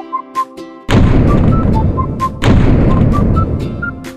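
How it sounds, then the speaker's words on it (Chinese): Hand grenade explosions in a video game, two heavy booming blasts about a second and a half apart over a background of short whistling game tones. "先送你个手雷。"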